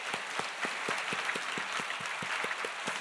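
A congregation at a Full Gospel church service in Daegu claps in unison, a steady, rhythmic round of about a dozen claps, with no voices over it.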